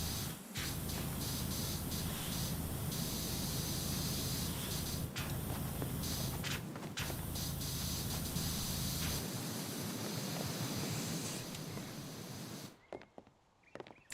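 A pressure washer sprays plastic soap in PowerWash Simulator, a steady loud hiss running almost continuously before cutting out near the end.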